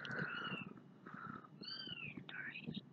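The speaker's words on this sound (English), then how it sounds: "The cat is trying to get my food for dinner." A house cat making eager meows and soft vocal calls while begging for food at dinnertime, repeated several times close by, with low background noise beneath.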